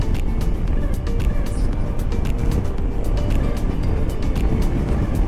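A Honda scooter accelerating under throttle, its engine droning steadily and loudly with heavy wind rush throughout, recorded from the rider's position while riding.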